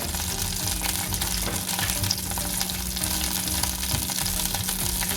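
Lamb pieces frying in a pan, a steady, loud, dense sizzle that continues without break, with no voices over it.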